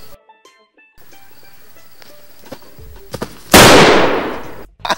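A sharp gunshot sound effect in a comedy skit bursts out loud and close after a stretch of quiet clicks and small knocks, decaying over about a second before a final tap.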